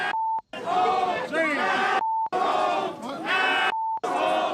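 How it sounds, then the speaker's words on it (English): A riled-up protest crowd shouting and yelling in loud dense bursts, repeatedly cut by short steady beep tones and brief silences, with voices raised throughout. "Crowd's riled up."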